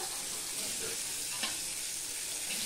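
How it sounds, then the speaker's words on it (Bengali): Eggs frying in oil in a pan, a steady soft sizzle and crackle running evenly throughout at moderate, close level, with no talking. "এবার যা তেল আছে ওই তেলে আমি ডিমগুলোকে ভেজে নিচ্ছি।"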